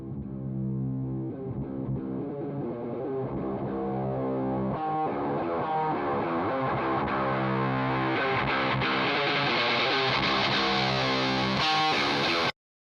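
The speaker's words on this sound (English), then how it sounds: "For this, I'm going to be using a filter on the guitar to make it fade in," Distorted electric guitar in a metal wrestling theme intro opens through a filter, its sound gradually brightening as the filter sweeps open over a steady heavy riff, loud and continuous before stopping abruptly.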